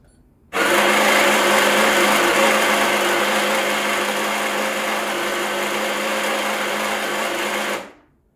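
A Baratza Sette 270wi coffee grinder grinding espresso beans, a loud, steady motor whir that starts abruptly, holds for about seven seconds and then winds down.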